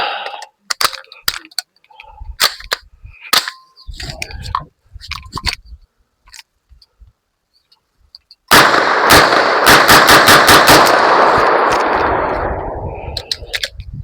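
An unsuppressed MP5 fires 115 grain 9mm FMJ rounds at a public outdoor range. Scattered sharp shots and clicks come first, then a pause, then a loud, rapid string of shots with a ringing decay.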